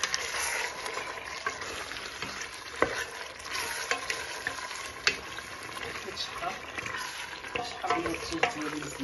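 Chicken searing in a pan, with a constant close sizzle and occasional clinks and scrapes from stirring, with no talk.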